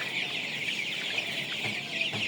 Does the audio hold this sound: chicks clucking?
yes